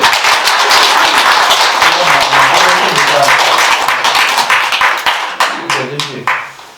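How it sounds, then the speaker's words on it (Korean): Audience applause during a Buddhist dharma talk, loud close clapping from a gathered group, continuous at first then thinning into scattered individual claps as a voice speaks over it. "큰 박수로 좀 받아봤어요"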